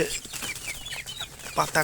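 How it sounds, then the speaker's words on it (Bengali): Native desi chickens cluck in short bursts at a small poultry farm while eating cabbage, over a busy, crackly farmyard background, with a louder squawk near the end. "এই ছোট্ট মুরগির খামার এটা অবশ্যই দেশি মুরগির খামার"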